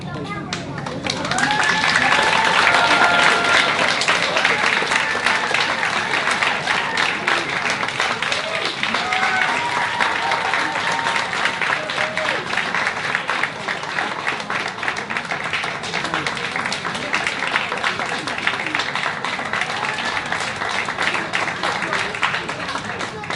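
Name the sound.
audience applause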